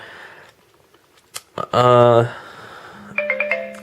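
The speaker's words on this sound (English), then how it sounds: "that's my cell phone going off there." A cell phone goes off with a loud electronic ring burst, followed by a shorter tonal chime, cutting through a quiet room.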